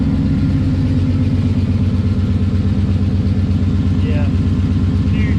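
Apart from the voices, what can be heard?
Ford Mustang Boss 302 engine running with exhaust leak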